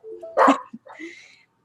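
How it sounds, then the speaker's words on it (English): Indoor dog barking at a visitor: two or three sharp barks at moderate distance with a short whine-like tail, between brief pauses in an otherwise quiet room. "Ziggy's barking at my fiance's dad right now"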